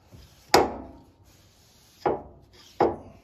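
Garden shears are stropped on a leather-on-wood strop with paste: three separate rubbing strokes, each with a sharp start that fades, spaced unevenly and close by, with no talk.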